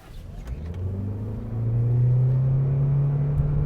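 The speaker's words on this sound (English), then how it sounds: "But it does sound like a Toyota hybrid" A Toyota Corolla Cross Hybrid pulls away on a Southern California road with a low, steady engine drone that swells gradually as it gains speed, fairly subdued and smooth.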